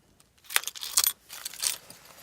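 A bunch of car keys for a Skoda, Mini, Kia and VW jangled together: several short, bright metallic clinks and rattles in quick bursts, close by and fairly quiet, with no talk.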